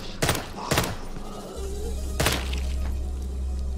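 In Daymare 1998, gunshots and a wet, shattering burst mark an enemy's head exploding, two quick loud impacts then another hit over a rising low rumble, no talk.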